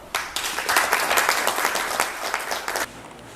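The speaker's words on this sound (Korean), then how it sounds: "여러분 힘찬 박수 부탁드립니다" Audience applause fills a Korean-American business friendship breakfast forum, a steady dense wash of many hands clapping for about three seconds before fading out, with no talk over it.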